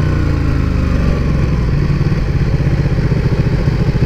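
A Ducati Panigale 1299 sportbike engine rumbles steadily during a night ride, a deep, loud, continuous drone with a faint pulsing throb building toward the end, heard alone without talk.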